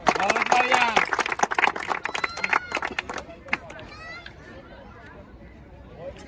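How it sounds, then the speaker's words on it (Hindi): Crowd clapping for the 1600 m race winner among a police trainee group at Gardanibagh rattles briskly for a few seconds, then thins out and fades, with people talking over it. "तो देखिए इतना मेहनत करके 5:22 या 23 में आए, इनके लिए ताली।"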